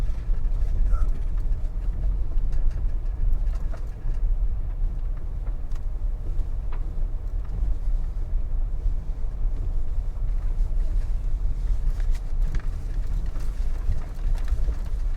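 A vehicle riding over a rough, bumpy road in Westmoreland, Jamaica gives a continuous heavy low rumble with scattered rattles and jolts, loud and close inside the cabin.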